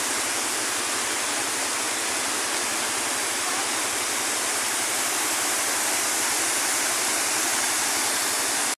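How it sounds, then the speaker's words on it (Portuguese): A dam spillway's waterfall in Brazil thunders steadily, a dense, close rushing roar of heavy water that stays constant until it cuts off at the very end. "estou mostrando aqui de baixo, para você ver a queda d'água."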